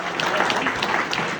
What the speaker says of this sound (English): So give it a big round of applause.